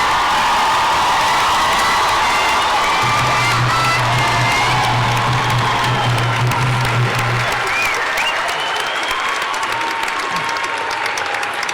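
A commencement crowd at Hollinger Field House bursts into loud sustained applause and cheering for first-generation graduates, a dense roar of clapping with whoops and shouts that holds throughout.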